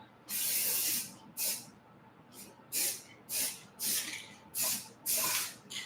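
An aerosol spray paint can hisses out a second coat in a series of sharp bursts, roughly seven short sprays with pauses between them. The sound is close and loud.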